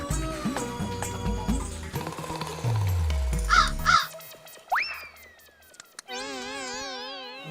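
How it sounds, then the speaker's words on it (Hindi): Crow cawing loudly and repeatedly in a comedy scene, harsh caws over a busy music and sound-effect bed, followed by cartoonish whistling and boing-like effects. "बेशरम कौवे,"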